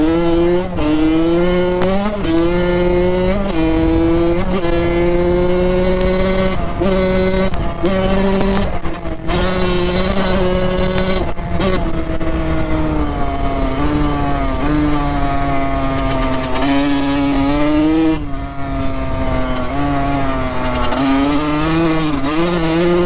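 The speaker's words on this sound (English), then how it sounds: "Man, I love dirt bikes." A dirt bike engine revs hard and continuously while riding through snowy ditches, loud and close, its pitch rising and falling with throttle changes and no talking.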